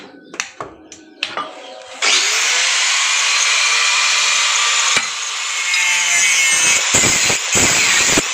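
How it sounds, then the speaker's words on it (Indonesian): An angle grinder cuts through a standard oil-type motorcycle rear shock absorber with a leaking seal, a loud, steady, high-pitched whine lasting about six seconds after a few short clanks, then fading into brief bursts. "Kali ini kita akan menggerindanya bos biar cepat ya."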